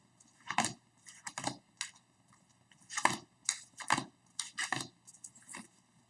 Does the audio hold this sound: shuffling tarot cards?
yes